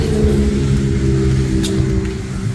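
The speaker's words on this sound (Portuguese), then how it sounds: "Aproveita que tá vindo uma moto." A motorcycle engine drones steadily nearby, its low rumble holding constant as it passes, with a brief higher whine partway through.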